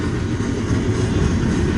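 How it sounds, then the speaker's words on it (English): An Iowa Interstate Railroad freight train rolls by nearby, giving a continuous heavy low rumble and wheel noise with no voices. "Ooh, Iowa Interstate Railroad."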